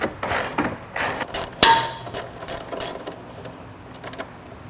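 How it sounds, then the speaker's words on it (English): A ratchet tightens bracket bolts on a Jeep tire carrier, rapid metallic pawl clicking in repeated bursts close by, with a sharp clank midway and quieter ratcheting toward the end. "go ahead and tighten up all the bracket bolts"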